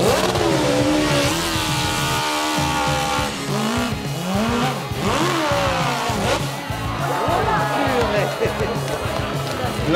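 A motorcycle on a steep French hill climb course (Muhlbach) screams up through high revs in rising and falling sweeps, loud and near, while an excited commentator talks continuously over it and a crowd murmurs.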